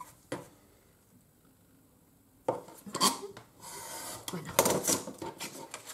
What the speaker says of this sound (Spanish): Voy a cortar más o menos la mitad